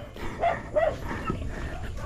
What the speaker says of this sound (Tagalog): Ang ingay na aso.